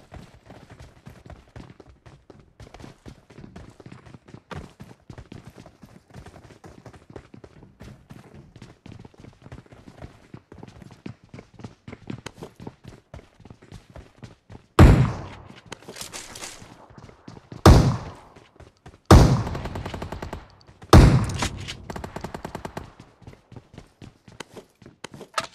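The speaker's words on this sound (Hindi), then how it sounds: "gun fight" Gunfire during a gunfight in PUBG Mobile, with a few loud, sharp bursts standing out over a busy background of rapid footsteps and movement.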